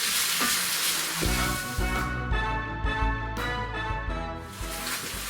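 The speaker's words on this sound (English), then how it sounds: "Bacon goes in too. Let's get that in there too. Just want to brown everything up." Bacon and onions sizzle loudly in a pot for chicken cheddar chowder, a dense, close, crackling fry broken by a few scraping stirs, with no talking.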